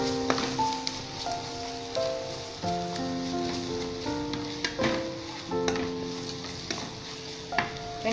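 Whole spices sizzling and frying in hot oil in a pan for a Tamil-style gut curry made with pasta, with steady crackling and occasional stirring scrapes, close and moderately loud, and no talking.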